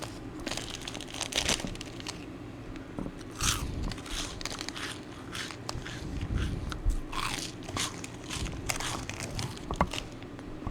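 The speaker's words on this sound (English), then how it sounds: "let me just take a bite and do some ASMR" Crunchy snack bitten and chewed close to the mic, a steady run of crisp crackling crunches and crinkles with irregular rhythm, fairly quiet overall.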